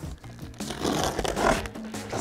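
Packing tape on a cardboard box being cut open with scissors gives a short burst of scratchy tearing and crinkling, close and moderately loud, with no talk.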